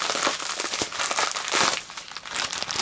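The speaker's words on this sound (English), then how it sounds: "Let's get this thing unwrapped." Crinkly wrapping rustles and crumples nonstop at close range as an extremely well-packaged parcel is torn open, with bursts of tearing and crunching along the way.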